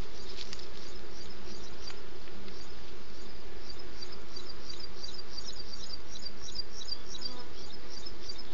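Honeybees swarm around an open, queenless hive being inspected without a veil, making a dense, continuous buzzing drone that stays close and even throughout.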